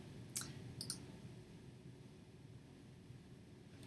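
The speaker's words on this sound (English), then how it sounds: "you would click on Quick Order instead." Two or three sharp, faint computer mouse clicks early on, then quiet hiss with a few tiny ticks.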